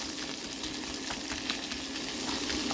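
Langoustines browning in a frying pan give off a steady, even sizzle of hot fat, broadband and continuous with no talk over it.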